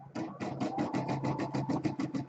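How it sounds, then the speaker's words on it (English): An embroidery machine sews a tack down stitch onto the back fabric of an in-the-hoop quilted project, a steady fast rhythmic needle chatter, close and moderately loud, with no talk. "And now I'm going to do the tack down stitch for the back fabric."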